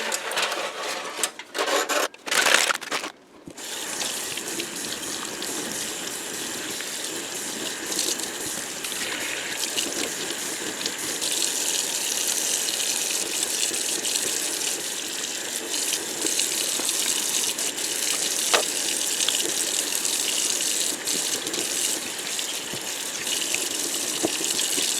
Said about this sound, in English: let's go ahead and rinse this out